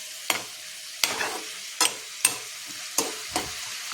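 Coconut pieces fry with onion, mustard seeds and green chilli in a pan, with a soft sizzle broken by regular scraping stirs, roughly one every second.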